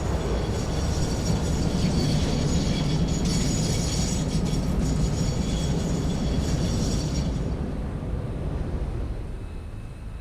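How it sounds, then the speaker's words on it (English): A train pulling in at a station in the factory-building game Satisfactory: a steady, loud mechanical rumble and rattle of rail cars that fades a little toward the end, with no talk. "Oh, I hear the train now."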